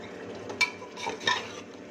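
Chana pulao is stirred and fried in a pot, giving a low steady sizzle with two distinct scraping strokes of the spoon against the pot.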